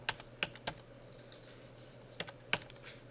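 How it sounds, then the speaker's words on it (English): Someone typing on a computer keyboard, a few sharp isolated key clicks in two short clusters separated by a pause, close and clear, with no voices. "So I type Windows in here."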